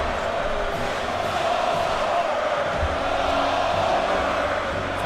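Capacity crowd at a Monday Night Raw wrestling arena in Orlando, a steady, loud roar of cheering that stays constant throughout with no clear breaks.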